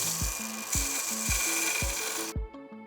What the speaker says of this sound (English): A little sanding doesn't hurt to remove the sharp edges.